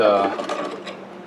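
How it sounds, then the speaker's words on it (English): A saw cuts a fret slot into a guitar fingerboard during a carved-top guitar build: a quick, close burst of rasping strokes that fades over a second or so. "definitely does a good job cutting that slot"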